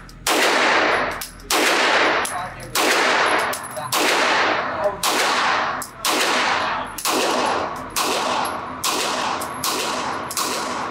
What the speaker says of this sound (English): Let's shoot some hollow points through it.